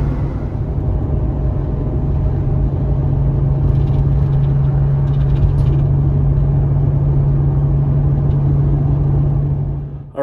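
A Rialta motorhome cruises down the road, its engine and tyres making a steady, close rumble with a low droning hum that holds throughout.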